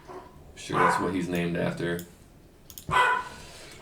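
A small Pomeranian dog barks a few sharp yips in the background while someone talks over it.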